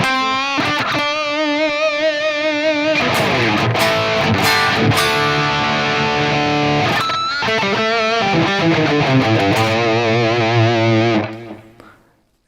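Gibson SG electric guitar played through distortion on the neck pickup, loud overdriven sustained chords and picked notes with rhythmic strums, ringing out alone before cutting off and fading at the end.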